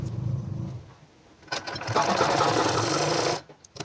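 A sewing machine stitches a women's shirt seam with a half-inch margin, a soft motor whir that swells into a loud steady run before stopping.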